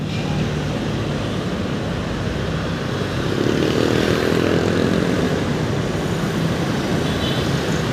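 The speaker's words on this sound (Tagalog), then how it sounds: "pinasilip ko lang sa inyo yung mga eroplano ng AirAsia" Steady loud roar of AirAsia airplanes at NAIA airport in Manila, a continuous broad engine rumble that swells slightly midway and holds without pause, no talk over it.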